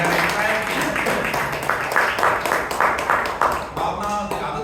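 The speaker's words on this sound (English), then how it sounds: "Please give Bhavana a big round of applause for her entire team." Applause from the audience at a Bangalore Toastmasters club meeting fills the room: steady, moderately loud clapping from many people with some louder individual claps, while a voice talks over part of it.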